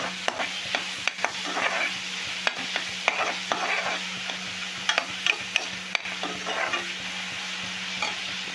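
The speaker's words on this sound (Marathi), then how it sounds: "कांदा लाल होईपर्यंत परता" Onions are frying in a pan for a prawn masala, giving a constant bright sizzle while a spatula stirs with irregular light taps and scrapes throughout.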